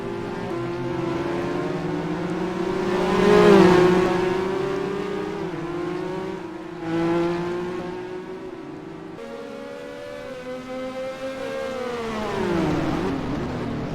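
Ferrari Formula 1 race cars from the NR2003 racing game battle closely, their high engines wailing and shifting in pitch as they pass, with overlapping revving swells throughout.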